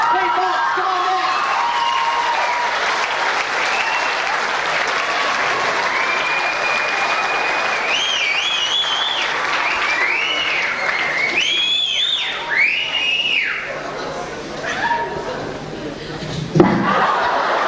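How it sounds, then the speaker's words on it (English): An audience at a 1989 Year 12 school farewell gives sustained applause that holds steady, then thins out, with scattered whistles and laughter at the end. "A big round of applause for none other than Pete Box!"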